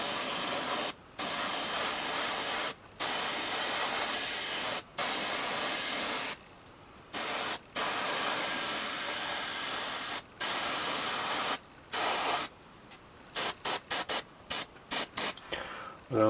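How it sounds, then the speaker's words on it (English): Broadband hiss of an airbrush spraying Army Painter matte black primer at 20 psi onto a miniature, in long steady bursts separated by brief pauses, ending with a flurry of short quick sprays. "So 20 psi on the compressor, some Army Painter matte black in the airbrush. I'm just going to spray the whole model"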